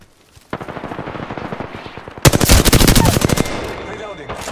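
Loud automatic gunfire from enemies in the battle game Apex Legends, with a steady burst of rapid shots that builds into a denser, harsher volley near the end, heard on its own.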